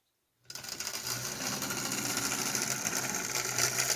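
A small Marx HO scale toy steam locomotive, worn and clapped out, starts up and runs with a noisy, steady mechanical whirring and buzzing rattle that continues throughout, close and fairly loud.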